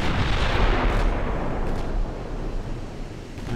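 Battleship secondary guns firing in the Ultimate Admiral Dreadnoughts naval battle game, Littorio against KGV: a loud, continuous roll of overlapping booming gunfire with rumbling low end, heard alone.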